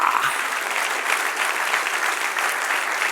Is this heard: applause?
yes